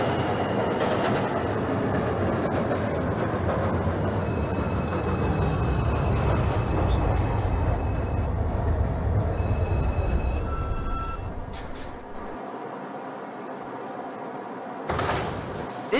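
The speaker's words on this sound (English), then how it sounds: "is a Brooklyn College Flatbush Avenue bound 2 local train" A New York subway 2 local train in the OpenBVE train simulator game, bound for Flatbush Avenue, rolls along with a steady rumbling roar and clacking. Tonal chimes and door sounds follow, then the noise settles to a quieter hum before a final burst.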